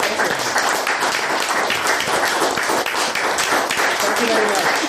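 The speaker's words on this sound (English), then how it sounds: "Heinz, you really deserve a big applause for bringing all this together." An audience at a podcast event claps for the host. The applause is moderate and continuous and runs under a speaking voice.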